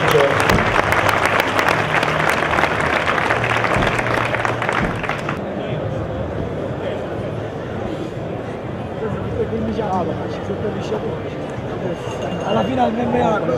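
An audience applauds at an MMA gala in Italy, with dense clapping for about five seconds before it fades into a steady crowd murmur and chatter.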